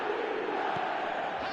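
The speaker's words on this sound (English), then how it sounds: "The crowd are calling for this to be put to bed." A stadium crowd in the eFootball video game gives off a steady, dense roar of chanting and cheering, loud and continuous with no distinct voices above it.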